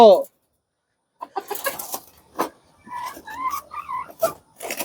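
A year-old layer hen clucks in short bursts after a brief pause, the calls close and fairly loud, rising and falling in irregular sequence.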